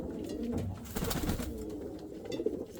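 A pigeon coos softly at its nest, giving a few low, rolling coos close by over quiet background hiss.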